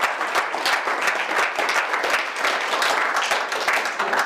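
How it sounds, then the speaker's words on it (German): An audience claps in sustained, dense applause at a lecture evening after the host greets the crowd, the sound holding at an even loud level throughout with no voices over it. "Ich bitte um Applaus."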